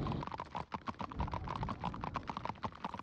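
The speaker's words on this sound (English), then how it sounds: "Clop, clop, clop, clop, clop." Horse hooves clip-clop in a steady, rapid rhythm in the video game Minecraft Story Mode, fairly faint and heard on their own with no talk.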